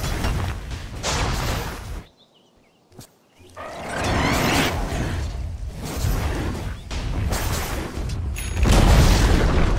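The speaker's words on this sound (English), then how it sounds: "Dire's bottom tower is under attack." Explosive booms, whooshes and battle impacts from a Dota 2 match as a bottom tower comes under attack, loud and dense, broken by a sudden near-silent gap before the clashing resumes and builds heavier toward the end.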